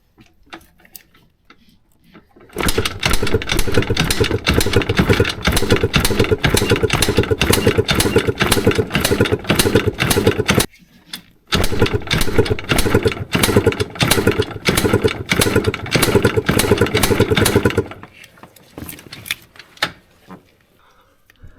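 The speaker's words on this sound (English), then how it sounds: "we'll do wide open throttle here. Let's see how much compression we got." A 22-year-old Yamaha YFM200 Blaster ATV engine is cranked over at wide open throttle during a compression test, making loud, rapid, rhythmic chugging in two long bursts of about eight and six seconds separated by a brief pause, close up.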